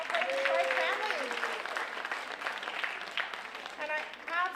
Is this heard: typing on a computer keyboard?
no